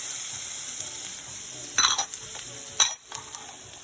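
Garlic, onions and peppers hit a hot pan, giving a soft steady sizzle with a few brighter bursts as the vegetables are stirred and a utensil scrapes the pan, fairly quiet and with no talking.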